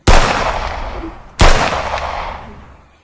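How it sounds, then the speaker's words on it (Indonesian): Two loud gunshots about a second and a half apart, each a sharp crack with a long decaying tail, fired by fighters of Bung Tomo's forces and Dutch troops in an Indonesian independence-themed stage play. "mendengar suara tembakan dari pasukan Bung Tomo dan pasukan Belanda"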